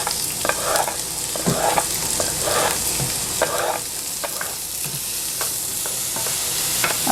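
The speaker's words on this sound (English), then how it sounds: "now I'm going to add my onion to this and saute it." Onion and garlic sautéing in a hot pan, a continuous loud sizzle broken by repeated scraping stirs at a fairly regular pace, close up with no talking.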